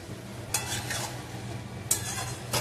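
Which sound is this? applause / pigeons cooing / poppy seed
poppy seed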